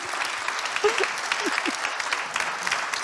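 Conference audience at the Cinov Federation convention applauds as a speaker steps onto the stage, a dense, even round of clapping from a large room with a few faint voices mixed in.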